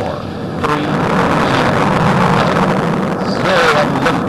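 A deep, continuous roar from Space Shuttle Atlantis's main engines building at liftoff fills the air, steady and loud, while a launch commentator speaks over it.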